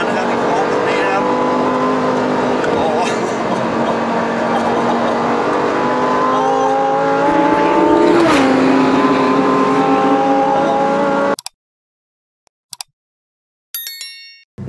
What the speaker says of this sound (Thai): มาทดลองขับครั้งแรกครับกับเจ้า Lamborghini Huracan STO ครับ